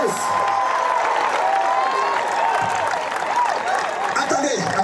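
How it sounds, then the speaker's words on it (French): Sustained applause from a church congregation at a Sunday worship service, with steady clapping and cheering throughout and a voice heard over the crowd. "Acclame Jésus"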